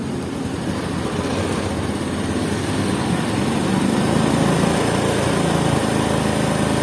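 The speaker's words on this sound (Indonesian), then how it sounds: "jika motor sudah stasioner tinggi, tinggal kita mencari untuk setelan angin-anginnya" A Honda Supra X125 motorcycle engine runs at a steady high idle during carburetor adjustment, giving a close, constant buzzing drone that grows slightly louder toward the end.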